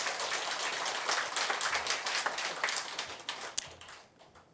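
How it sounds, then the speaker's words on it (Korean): Applause from a congregation at a regular Buddhist dharma service, a dense patter of many hands clapping steadily and filling the hall for several seconds, then thinning out toward the end. "박수 치세요"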